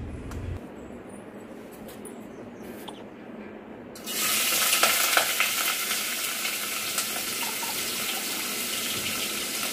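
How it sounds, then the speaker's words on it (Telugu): Chicken is stirred with oil and salt in a pot, quiet at first, then a loud, steady, hissing, scraping stir that holds for the rest of the clip. "ఇక్కడైతే నేను గిన్నె పెట్టేసాను, దాంట్లో ఆయిల్ వేసేసుకున్నాను। సో ఇది వేసేసి ఉప్పు వేసేసి మిక్స్"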